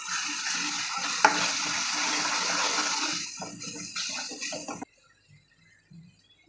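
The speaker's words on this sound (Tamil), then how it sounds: "நல்லா வதக்கிட்டுலாம்." Fish curry masala with home-ground chilli powder sizzles and fries in a pan while being stirred, a steady close hiss with scraping strokes that cuts off abruptly, leaving near silence.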